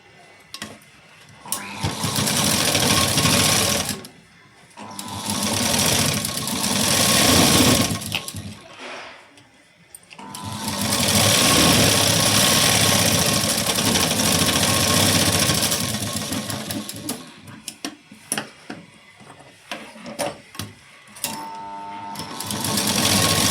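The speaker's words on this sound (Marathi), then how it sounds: "आता आपण इथं शिलाई देऊन घेऊ." Sewing machine stitching a blouse in long loud runs of dense rapid whirring, close to the listener, stopping and restarting several times and ending in short choppy bursts.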